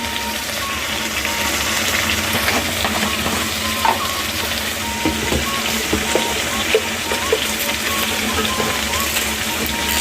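Meat is sautéed in a pan in a village home kitchen, making a loud, continuous sizzle with frequent small scraping and stirring clicks close by.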